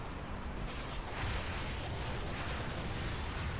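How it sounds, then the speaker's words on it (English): Artillery salvos in the Halo Reach video game, a dense, continuous rumbling roar of blasts that fills the whole stretch at a steady, heavy level, with no voices. "Then we can shoot a few salvos over."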